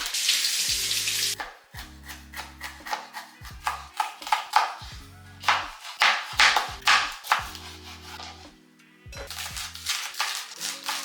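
Tap water runs and splashes as vegetables are rinsed, in uneven bursts with close clattering and handling noises between them.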